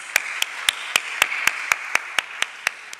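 A lone pair of hands claps about four times a second in a crisp, regular rhythm, close and distinct, as a welcome for guests at a BSE stock broking seminar, with no voices.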